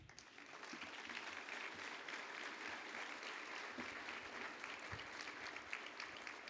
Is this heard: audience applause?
yes